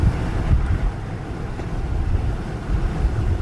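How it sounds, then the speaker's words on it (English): Wind roars through the open sunroof of a Land Cruiser 100 Series fitted with a Frontrunner Slimline II roof rack and MaxTrax traction boards, a steady, loud, low rushing buffet while driving, with no speech. "so that wind noise, that's mostly from the max tracks"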